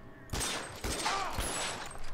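Gunfire in the LA Noire video game: a loud, close volley of sharp shots in three heavy bursts over a sustained, dense crackle of firing.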